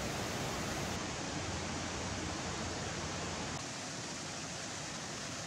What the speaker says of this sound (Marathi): मंदिराच्या शेजारीच सुंदर असा एक धबधबा आहे.